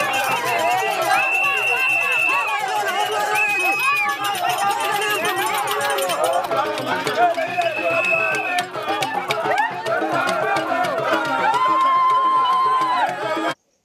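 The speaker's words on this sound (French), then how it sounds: "a été accueillie par une foule scandant des cris de joie" A dense crowd cries out in joy to welcome a woman's arrival in Mbuji-Mayi. The loud, close babble of many voices carries high ululating cries and shouts throughout.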